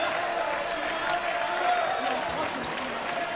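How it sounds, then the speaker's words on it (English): A crowd at a table soccer World Cup quarter-final cheers for France, with steady applause and clapping under a commentator's voice. "Already intensity, already tremendous crowd support for France."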